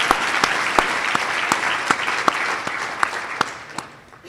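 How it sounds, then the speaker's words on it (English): A live studio audience claps during a talk show with a ballpark general manager, a loose crowd patter punctuated by distinct, louder individual claps in a rough rhythm, fading toward the end. "Clap."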